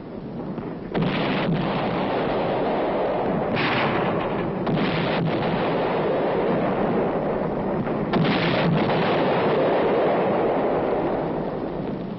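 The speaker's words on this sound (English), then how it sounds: "the infantrymen prepare to blast the Reds from still another hilltop with coordinated fire and high explosive shells" Artillery and high-explosive shell bombardment of an enemy-held hilltop in a Korean War counterattack, heard as a continuous loud rumble of fire with several sharper bursts standing out, no voices.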